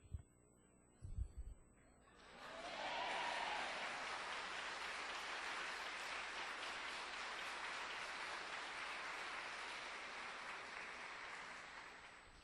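A church congregation breaks into applause after a couple of short bumps, a broad, steady roar of clapping that swells in and holds loud and even to the end.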